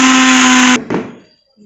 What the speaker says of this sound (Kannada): ಇದನ್ನು ಮಿಕ್ಸಿ ಮಾಡ್ಕೊಳ್ಳೋಣ.